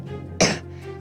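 A child with a lingering cough lets out one short, sharp cough, close and clear over a low background hum.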